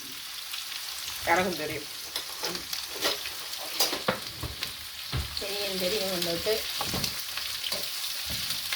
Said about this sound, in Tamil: வெங்காயத்தை கொட்டி போட்டு தாளிக்கும்.